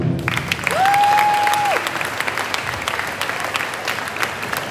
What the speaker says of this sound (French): Donc, on peut tous les applaudir.